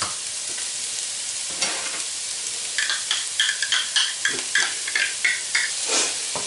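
Onions, carrots and garlic frying in a pan, a close hissing sizzle broken by a quick run of scraping stirs and utensil taps, with no voices.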